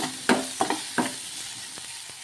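Green chilies and tamarind are stirred together in a hot pan, giving a soft sizzle with several sharp scrapes and taps of the spoon in an uneven rhythm.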